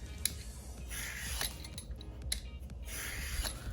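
A vegetable peeler scraping strips of peel off a cucumber, soft repeated rasping strokes close by at a quiet level, with no talk.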